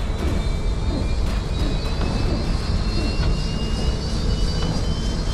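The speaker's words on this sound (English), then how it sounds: "Why does it sound like they're trying to turn the engine on?" Aircraft engine in the video game Defiance spins up with a loud, continuous jet-like roar and a rising whine, steady throughout and alone.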